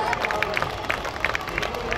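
Audience applause at a Hindi-Urdu poetry recital, a humorous kavi sammelan, with dense rapid clapping from a crowd running steadily throughout, mixed with a murmur of crowd noise.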